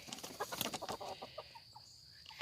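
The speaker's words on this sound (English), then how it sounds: "Listen here, you big-mouthed rooster." A rooster, a backyard farm bird, gives a string of short, throaty clucks and calls close by, with a louder squawk at the very end and no clear full crow.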